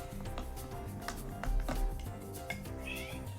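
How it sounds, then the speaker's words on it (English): A pet cat meowing indoors, short mews heard over background music, fairly close but not loud. "She meowed at me again."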